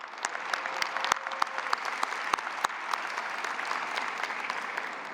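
A crowd claps steadily and evenly for community violence-prevention workers at an event in Illinois, a dense wash of applause with a few sharper individual claps standing out.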